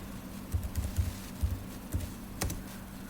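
Quiet, scattered key taps on a computer keyboard, a few soft clicks in irregular clusters over a faint steady hum.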